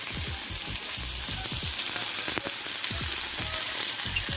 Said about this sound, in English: You got the butter sizzle?